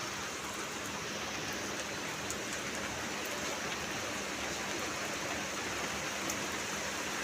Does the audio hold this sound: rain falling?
yes